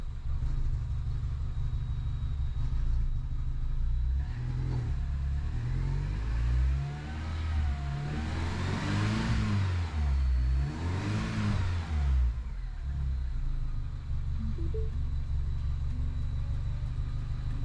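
A Mini's engine runs after two years off the road, idling steadily with a low rumble and rising into two distinct revs near the middle before settling back to idle, close and with no talk.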